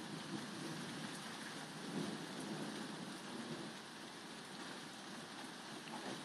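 Steady rain falls during a coastal thunderstorm, a continuous hiss of drops with a low rumble of thunder swelling beneath, faint and distant.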